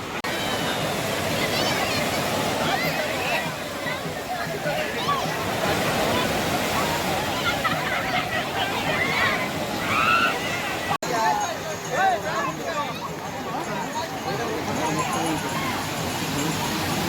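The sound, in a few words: sea waves at Marina Beach, Chennai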